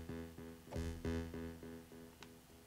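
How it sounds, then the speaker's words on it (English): Tones pass through the Aalto waveguide/delay module on a faster delay setting, giving a quick train of evenly spaced harmonic repeats that overlap and gradually thin out, plus a short high blip near the end. "a faster one sounds like this."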